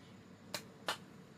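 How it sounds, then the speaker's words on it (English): Two sharp hand claps about a third of a second apart, made as a camera audio sync test, crisp and close over a faint room hiss. "Now I'm going to do a clap test."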